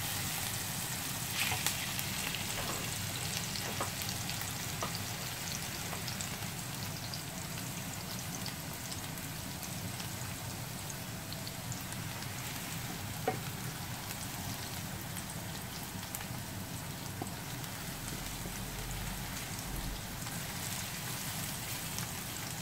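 Flour and vegetables frying in a pot for creamy potato soup give a steady, soft crackling sizzle, like light rain, that runs evenly throughout at moderate volume, with no voices.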